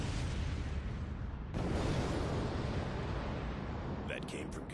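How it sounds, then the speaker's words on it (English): A huge explosion in the game Batman: Dark Tomorrow, heard as a sudden, loud roaring burst that swells into a sustained rumble, with some crackling near the end. "then the biggest fucking explosion I've ever seen happens"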